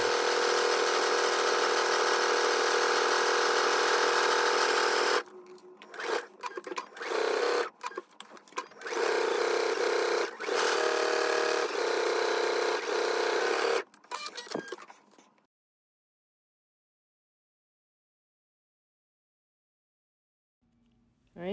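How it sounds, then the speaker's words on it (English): A sewing machine stitches belt pieces together for a garment, running loud and steady for about five seconds, then in a series of short bursts and pauses, before falling silent. "we're now going to go ahead and stitch the belt pieces together"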